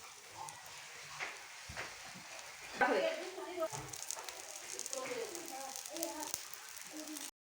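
An aloo pyaz paratha, Punjabi style, sizzles in ghee on a griddle: a steady frying hiss with scraping and spreading sounds, heard close over several seconds.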